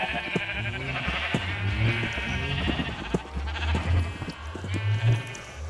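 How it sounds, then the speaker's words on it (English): A pig in a video game, repeated squealing grunts sounding over a noisy game backdrop with a steady hum, several calls close together through the stretch. "I hear me a pig noise."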